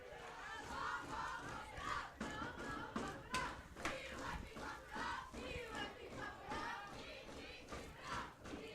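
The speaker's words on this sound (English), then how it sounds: "The Attica cheerleaders doing a great job keeping the crowd involved despite the inclement weather" High school cheerleaders chant at a football game in bad weather, rhythmic group shouts with crowd noise and thuds, fairly distant and continuous.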